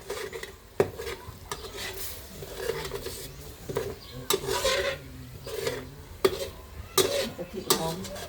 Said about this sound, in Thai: ผัดให้กะทิหอมนะคะ